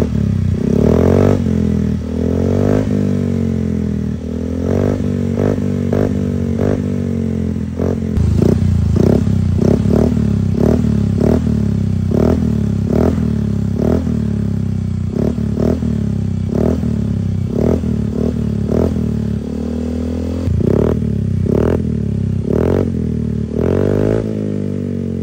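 A Yamaha Mio i 125 scooter fitted with a TRC exhaust pipe and no silencer idles loudly up close, broken by repeated sharp throttle blips and revs throughout, with a rough, open exhaust rasp.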